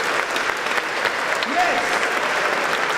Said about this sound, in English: Round of applause for building that from scratch